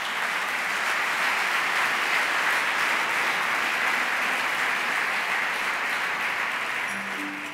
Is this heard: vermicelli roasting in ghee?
no